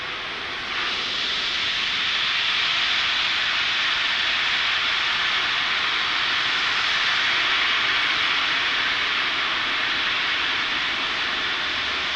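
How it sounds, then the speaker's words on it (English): A SpaceX Falcon 9 rocket lifting off carrying 60 Starlink satellites, a loud sustained broadband roar that swells in quickly and holds steady, with no voices. "Let's listen into terminal count and watch as Falcon 9 takes our 60 Starlinks into orbit."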